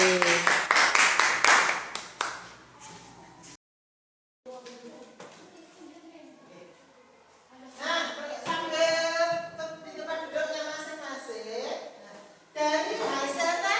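A classroom group claps for a team, a brief burst of clapping at the start, then teacher and children talking over a murmuring room.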